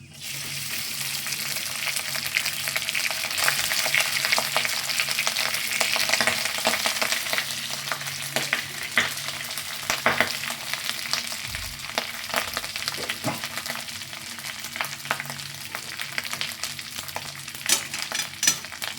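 Boiled rice stir-fries in a pan of oil with raisins, giving a steady soft sizzle broken by repeated scraping and tapping of a spatula over nearly twenty seconds, close but fairly quiet.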